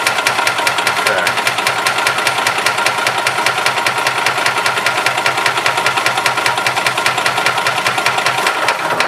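A 1991 Yamaha G8 gas golf cart engine runs steadily after a fuel pump replacement and carburetor cleaning, giving a loud, close, rapid even chugging throughout with no talk.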